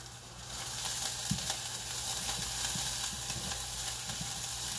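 Onions fry in a pan with a dense, even sizzle and crackle that holds steady throughout, with a few soft stirring knocks in the background.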